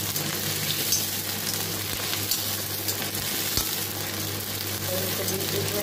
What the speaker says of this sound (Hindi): आलू मीडियम फ्लेम पे फ्राई करेंगे